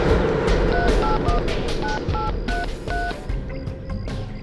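A telephone number being dialed on a landline at a public phone booth, a run of short evenly spaced keypad tones over steady background rumble.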